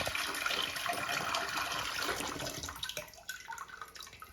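A toilet flushes close by in a bathroom, a steady rush of water that runs loud for a couple of seconds, then breaks up into gurgles and trickling as it drains away.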